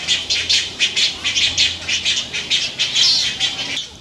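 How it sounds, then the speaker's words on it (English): Many birds squawk and chatter overhead among masses of nests in White Point Garden, Charleston, a dense, continuous flock of rhythmic calls with occasional wingbeats, fairly loud and with no talking. "I don't know if you can hear all the birds as I look up overhead"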